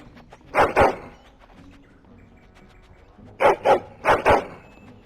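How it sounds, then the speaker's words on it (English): A big dog barks in the video game Dragon Age Origins, with a pair of deep, booming barks, a pause of several seconds, then four more in two quick pairs, loud and close. "Big dog. Very big dog."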